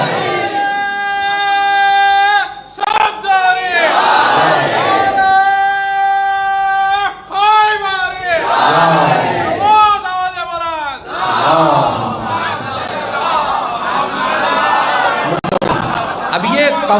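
A large crowd at a Shia majlis gathering chants salawat in unison with hands raised, loud, close and tonal, rising in repeated waves and pausing briefly between calls.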